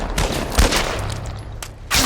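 Rapid, loud bursts of gunfire from a zombie shooter game hammer out in dense fusillades, with a heavy blast near the start and another strong burst at the end.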